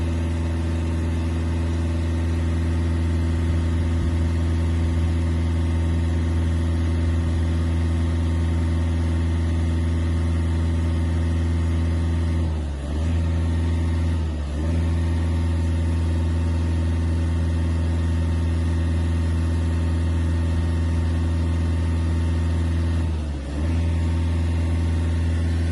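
A VW Golf 7 or Passat diesel engine idles close by after starting, a steady loud low rumble with a diesel clatter and a few brief dips, with no voices.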